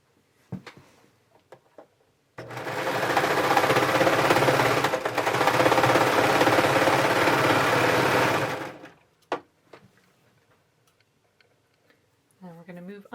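A sewing machine stitches cardigan pieces together at the shoulder in one continuous run of about six seconds with a brief slowdown midway, close and clear, framed by handling clicks and a little speech before and after.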